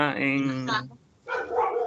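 Dogs barking nearby, two loud harmonic bursts separated by a short pause.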